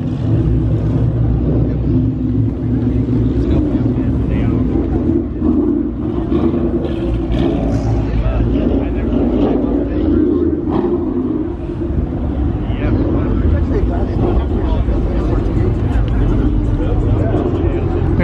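Sports cars roll up one after another, including a Nissan GT-R, a Corvette Z06 and a Subaru BRZ, with loud engine rumble continuing throughout under the chatter of a car-show crowd.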